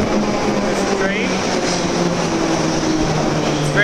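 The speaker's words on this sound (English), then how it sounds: "The underground is exactly like it looks in the films. Not that that's weird, but there's a train." A London Underground tube train rumbles and hums steadily throughout, loud and close inside the station or carriage, with faint squeals over the constant drone.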